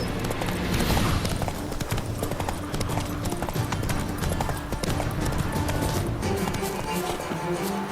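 Roach the horse gallops in The Witcher 3, a steady, loud clip-clop of hooves running through the whole stretch against a continuous game soundscape.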